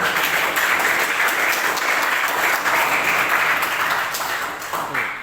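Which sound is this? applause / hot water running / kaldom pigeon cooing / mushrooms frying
applause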